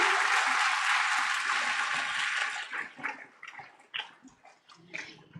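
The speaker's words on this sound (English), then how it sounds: "A big round of applause, everyone, from all sides for our dignitaries." Award ceremony audience applauding the dignitaries, a dense, loud wash of clapping at first that thins after a couple of seconds into scattered, fading individual claps.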